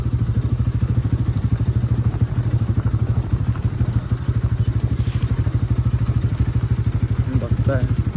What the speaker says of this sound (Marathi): पावसामुळे माती आली, त्याच्यामुळे इथे थोडीशी बाईक काढायला थोडासा प्रॉब्लेम होतो